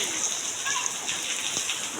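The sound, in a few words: rain falling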